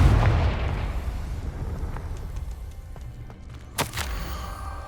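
Confringo spell explosion in the Hogwarts Legacy video game: a heavy booming blast up front that fades into rumbling debris, followed by a sharp second burst near the end, with no talking.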